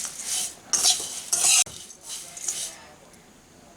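Flattened rice being stirred with fried peanuts in a pan for sweet chire bhaja: a spoon scrapes and clinks against the metal in several loud strokes, with a faint sizzle between them.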